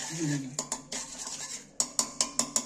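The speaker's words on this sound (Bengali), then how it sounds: "কাঁটাটা দিয়ে গুলছি।" A fork stirs sugar into a milk mixture in a bowl, beginning with softer swirling and ending in a run of sharp, evenly spaced metal clinks against the bowl, close and fairly quiet.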